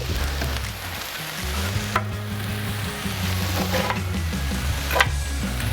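Frozen vegetables sizzle across a broad Solo Steelfire 30 griddle, a steady, close frying hiss with a few sharp scrapes and clicks of utensils.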